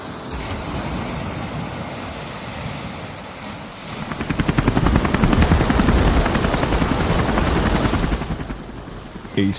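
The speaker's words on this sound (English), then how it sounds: "A sleek gray helicopter cuts across the Atlantic Ocean away from Cape Cod" A helicopter roars steadily close by over the Atlantic Ocean off Cape Cod during a rising storm, its rotor thudding in a rapid beat that grows louder midway, with wind rushing over the microphone.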